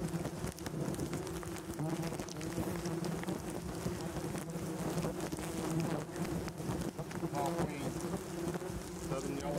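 A dense swarm of yellowjacket wasps drones steadily at a huge nest under a house in Louisiana. The buzzing is continuous and fairly close, with a voice speaking over it.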